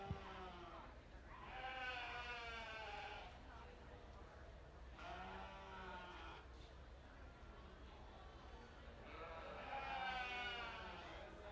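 Sheep bleat at a youth sheep market show, with several long, wavering bleats in three bursts against a low, steady background of the show barn.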